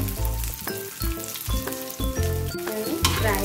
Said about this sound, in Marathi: त्यानंतर मी घालून घेतो ह्याच्यावर हा चिरून घेतलेला कांदा,